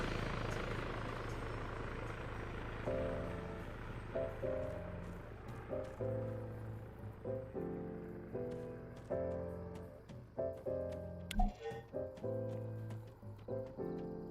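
A Littlebird helicopter in the video game Arma, a rhythmic rotor thump and turbine drone at moderate level, pulsing steadily with soft intermittent clicks.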